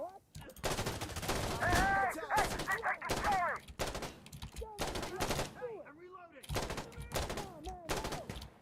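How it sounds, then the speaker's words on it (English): Rapid video game gunfire rings out in bursts of automatic shots and single cracks, loud and close, with a voice talking over parts of it. "Where is this motherfucker shooting from?"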